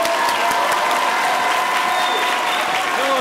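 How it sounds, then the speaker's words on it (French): Loud, warm applause from a hall audience welcoming a guest at a high-school eloquence contest final in Montreuil, a thick continuous roar of clapping with some crowd noise and faint tones beneath. "Je vous demande d'accueillir chaleureusement, par vos applaudissements"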